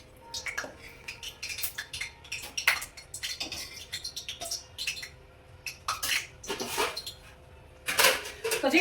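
Steel thali plates and bowls being set with puri and aloo gobhi matar curry, with a run of close, sharp clinks and clatters at an uneven pace, some loud knocks near the end, and no talk.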